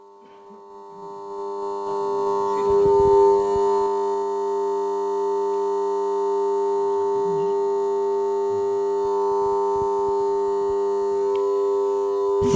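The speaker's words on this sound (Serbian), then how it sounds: "Sirena označava šta?" A steady, loud warning siren sounds for a mine transport conveyor, here transport belt F at an open-pit mine. Its tone rises at the start, then holds unbroken, with faint mechanical noise and brief knocks underneath.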